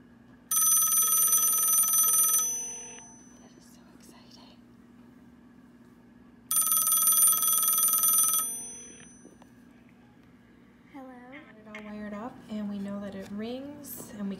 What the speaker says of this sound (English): now we're gonna try to make a phone call so you can see that it will ring.